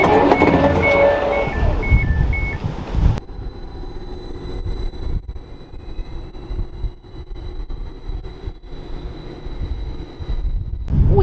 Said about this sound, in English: Any minute my next train is going to be arriving to take me off to my next station